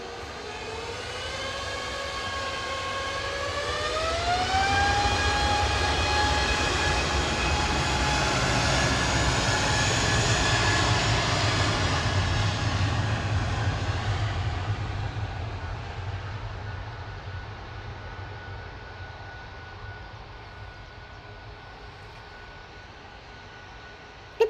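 An Airbus A320neo passes at Manchester Airport, its engine roar swelling with a rising whine, peaking midway and then fading gradually into the distance.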